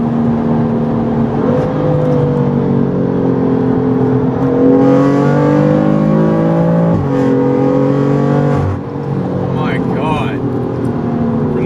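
A BMW M4 engine with catless downpipes revving hard with loud, rising exhaust drone through the gears, heard from inside the car with windows up, with people talking underneath.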